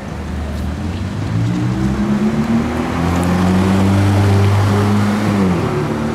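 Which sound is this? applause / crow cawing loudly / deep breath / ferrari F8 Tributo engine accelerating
ferrari F8 Tributo engine accelerating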